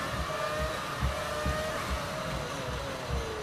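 A car overtakes and passes close by on the road, a steady engine roar with rhythmic low thumps, heard from inside another vehicle.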